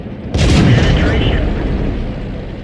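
World of Tanks tank cannon firing: one loud, sudden boom with a sharp crack, followed by a long rumbling decay.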